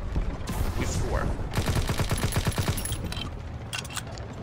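Rapid gunfire from a World War II–era weapon in the video game Call of Duty WWII, a dense run of repeated shots firing in a steady rhythm amid loud battlefield noise.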